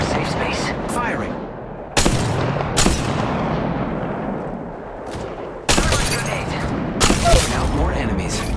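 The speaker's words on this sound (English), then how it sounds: "The enemies are shooting at me." Gunfire in the mobile battle royale game Apex Legends Mobile: loud, sharp bursts of shots and booming impacts in clusters over a constant rumble of game noise.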